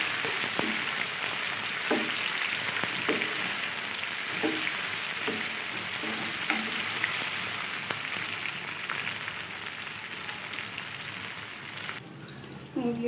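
Tomato fries with browned onions in a pan for chana dal, a loud continuous sizzle with scattered crackles and occasional stirring clinks, close and steady throughout.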